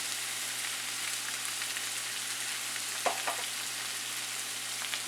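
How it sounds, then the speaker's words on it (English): An egg fries in a hot wok in the middle of stir-fried Thai drunken noodles, giving a steady, close sizzle with a few brief crackling pops partway through and no talking. "Let the egg just sit there and start to fry for a minute."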